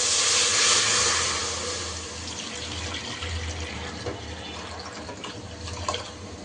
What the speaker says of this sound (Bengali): দুধটাকে প্যানে ঢেলে নিচ্ছি।